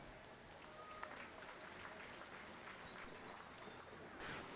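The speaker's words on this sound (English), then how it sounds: "Let's give him a round of applause." A crowd at a youth livestock cattle show claps for a calf, a faint, even wash of applause heard from a distance.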